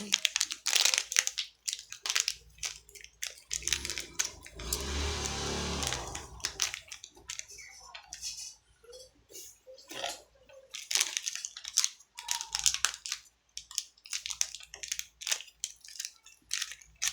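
Plastic wrapping crinkles and crushes as a package is torn open on a tabletop, a dense rustling burst in the middle, with scattered crackles before and after.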